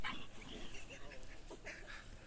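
A dog barks and yelps in short, uneven bursts while playing with a baby elephant, heard near and moderately loud with people chattering over it.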